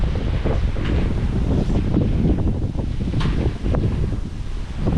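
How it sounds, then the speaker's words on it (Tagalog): Strong wind roars and buffets the microphone steadily throughout, with rumbling gusts and no voices. "Ang lakas ng hangin."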